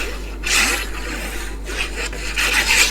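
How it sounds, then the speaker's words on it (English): Scored paper card being burnished, a dry scraping rub in several short strokes, close and fairly loud, with no talking. "I'm going to burnish"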